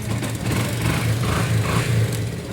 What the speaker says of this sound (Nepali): बाइक स्टार्ट भयो।